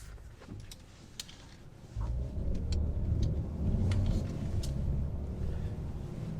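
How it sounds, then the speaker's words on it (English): A 2022 Genesis G70 3.3t sport sedan on the move, heard from inside the cabin: a quiet hum that steps up into a fuller, louder engine and road drone about two seconds in and then stays steady. "driving the Genesis G70."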